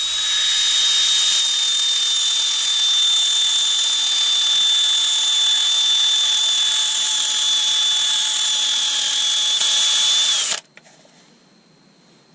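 An Iroko wood vase being sanded on a lathe gives a loud, steady high-pitched whine and hiss that lasts about ten seconds, then stops abruptly and leaves a quiet hum.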